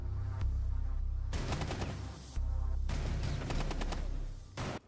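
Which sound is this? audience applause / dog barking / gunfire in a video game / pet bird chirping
gunfire in a video game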